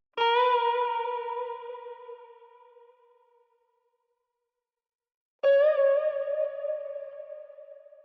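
Two plucked guitar notes from a sample, pitched up eight semitones and time-stretched, ring out in turn, each with a bright attack and long decaying sustain, separated by a short silence.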